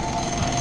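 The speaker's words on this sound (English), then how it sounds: "that jackhammer's been going flat out over there" A jackhammer pounds steadily on a bricklaying building site where workers are digging for a manhole, giving a continuous, dense, rattling roar with no pauses across the short stretch.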